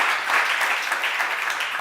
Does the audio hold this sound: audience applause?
yes